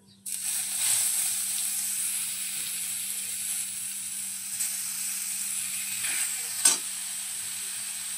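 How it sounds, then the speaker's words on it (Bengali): Grated papaya hits hot oil with tempering spices and bursts into a steady, loud sizzle that holds throughout, with faint stirring clinks and a sharper scrape near the end. "এবারে আমরা গ্রেট করে নেওয়া পেঁপেটা তেলের মধ্যে দিয়ে দিচ্ছি।"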